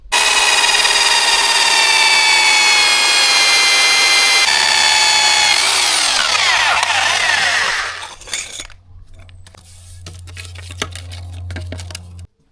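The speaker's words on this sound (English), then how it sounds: "that's why I'm drilling at a little bit of an angle and try and kick them over a little bit more" A power drill whines loudly and steadily, its pitch dipping as it bites into a wall at an angle, then cuts out, leaving a low hum and scattered knocks.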